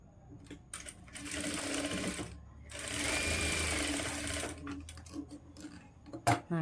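Sewing machine stitching a blouse lining, running in two bursts of steady rapid stitching with a short pause between and brief handling clicks around them, moderately close with no talking.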